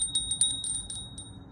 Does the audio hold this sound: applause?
no